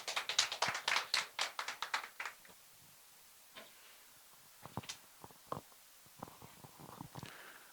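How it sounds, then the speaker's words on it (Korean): Scattered clapping from a small audience at an education conference session, a quick run of distinct claps at first, then sparse isolated claps trailing off, fairly faint in a quiet room. "큰 박수로 맞이해 주시기 바랍니다"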